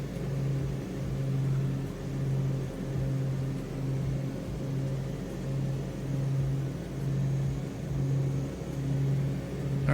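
Small airplane engine droning steadily after the RPM is pulled back, a low even hum with a slow rhythmic pulsing, close and constant, no talking.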